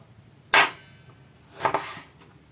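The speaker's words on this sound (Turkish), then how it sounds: "Havuçları bu şekilde doğrayacağız." Two sharp knife chops cut carrots into large chunks on a board in a home kitchen, each a crisp close thud, spaced about a second apart in a quiet room.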